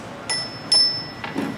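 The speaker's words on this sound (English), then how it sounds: "When the bell rings twice" A debate timer bell rings twice to signal thirty seconds left in a student council candidate debate, two short bright dings close together, moderately loud, followed by softer thuds.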